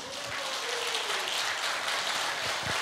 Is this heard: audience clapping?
yes